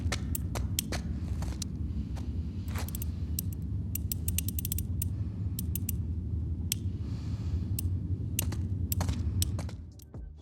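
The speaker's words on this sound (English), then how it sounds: "When turning the dial on a safe, you'll hear a clicking sound." A safe dial turned in a video game gives a rapid run of small sharp clicks over a low mechanical rumble, steady throughout and fading at the end.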